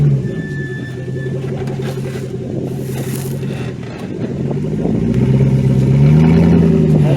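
A Jeep Grand Cherokee WJ on 37-inch tires climbing an offroad obstacle: engine rumble with scraping and rustling close by, swelling into louder revving near the end, no voices.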